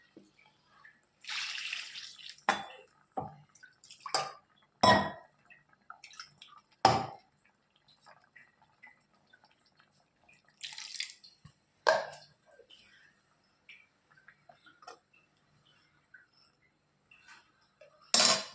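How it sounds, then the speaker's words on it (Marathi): Water swirls in a mixer jar to rinse out leftover masala and is poured into a pan of spring onion greens: quiet, intermittent splashes, drips and light clatter separated by near silence. "आपण मिक्सरच्या भांड्याला जो मसाला लागलेला आहे तो धुवून त्या भाजीमध्ये टाकणार आहोत"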